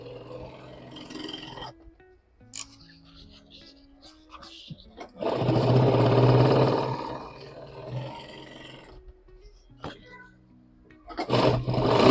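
A sewing machine stitching along the edge of a pouch runs in a loud sustained whirring burst midway, with shorter runs at the start and end and talk in between.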